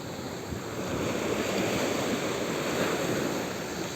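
Sea waves on a beach in Alexandria wash in steadily with a continuous hiss of surf and some wind noise on the microphone, with no voices.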